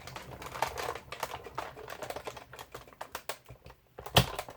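Paper and a washi-taped die feeding through a hand-cranked die cutting machine, with a run of rapid clicking, ratcheting taps and a louder pop near the end.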